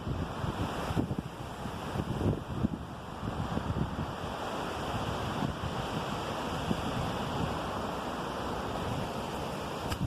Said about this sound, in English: it's a really windy day here